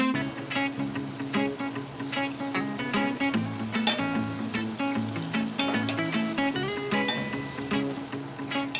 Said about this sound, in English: So my fritters have been frying for about 8 minutes